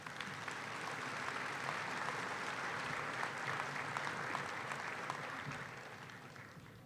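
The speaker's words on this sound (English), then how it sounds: "Please give them all a warm round of applause." Steady round of applause from a winter commencement crowd, a wash of many hands clapping at even strength throughout before easing slightly at the close.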